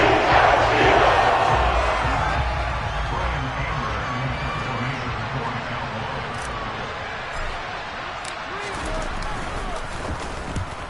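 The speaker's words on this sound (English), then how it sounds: "Plenty of shouts from this crowd as they watch the replay." Football crowd at a game shouting and roaring loudly as they watch a replay, a dense continuous wall of voices that stays strong throughout and eases only slightly toward the end.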